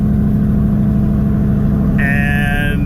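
Pickup truck with a freshly rebuilt 10-bolt rear axle and G80 locker rolling down the road, a steady low drivetrain rumble with a faint rising whine joining near the end.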